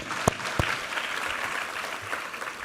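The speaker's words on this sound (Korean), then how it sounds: "우리 하나님께 감사와 영광의 박수 올려드리겠습니다." A church congregation at a Sunday worship service applauds: dense, steady clapping from many hands in a roomy hall, with a couple of sharp nearby claps near the start.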